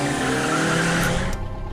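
A car drives past loudly with a sustained roar and tire squeal, the engine noise holding steady before a brief sharp screech and then easing off.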